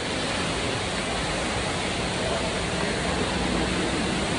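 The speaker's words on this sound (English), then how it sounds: "They have a giant waterfall right here" An indoor waterfall inside a shopping mall in Puerto Rico roars as a steady, dense wash of falling water, loud and unbroken throughout with no voices over it.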